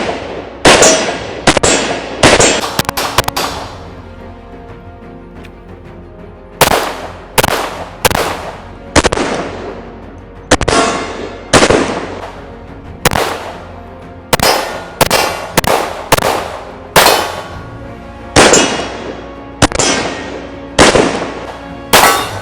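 A PSA Dagger full-size pistol fired with a Glock magazine, a long string of sharp, loud gunshots in irregular clusters and single shots with short pauses, alone with no talk.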